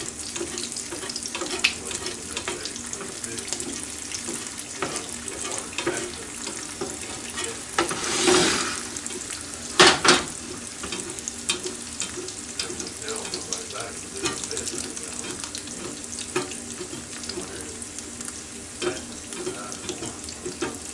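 Hot grease sizzles in a pan while eggs are fried, a steady crackling hiss with a few louder splashy bursts as the pan is rocked, and people talk nearby.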